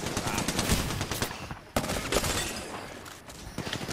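Rapid bursts of gunfire in the battle royale game Apex Legends crackle loudly and densely for about four seconds, with a brief pause in the middle before the shots resume.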